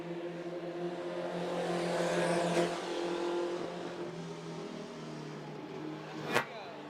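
Race cars lapping at Volusia Speedway Park in an Outlaw 4 feature, their engines droning and rising from a distance, with a sharp brief burst near the end.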